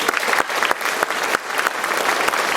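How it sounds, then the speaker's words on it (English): An audience at a middle school music concert claps steadily, a dense patter of many hands that holds at moderate loudness with no voices over it. "One more round of applause for them for that."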